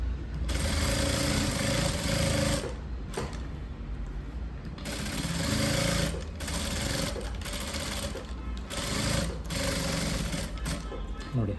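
A sewing machine stitches a blouse lining in bursts, its fast, steady motor whir running loud and close for a few seconds, pausing briefly, then starting again, while someone talks between and over the runs.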